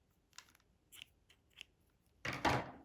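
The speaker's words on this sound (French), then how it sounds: "Je coupe mon fil" Scissors snip through crochet yarn in a quiet room: a few faint clicks and small handling sounds, then one louder, closer cut near the end.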